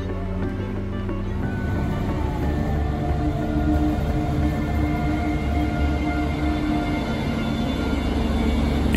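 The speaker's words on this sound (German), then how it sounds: "Auf der Südbahn bis Ulm wird der Zug von der Diesellok geschoben" A steady low rumble of a train pushed by a diesel locomotive, with continuous engine drone and track noise and no pauses.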